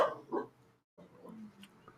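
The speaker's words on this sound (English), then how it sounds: "My dog is very barky." A pet dog barks twice in quick succession close by, short sharp yaps separated by a brief gap, in a room with a faint background voice.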